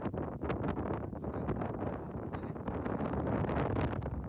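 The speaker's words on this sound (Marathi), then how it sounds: "बघा वारा भरपूर सुटते" Strong wind at Lohagad fort buffets the microphone in a dense, continuous roar with gusty rumble throughout, loud and close, no voices.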